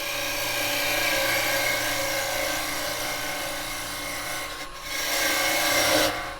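A square carbide woodturning tool cuts into spinning wood on a lathe, giving a continuous close rasping, scraping hiss with a short dip partway through before the cut resumes.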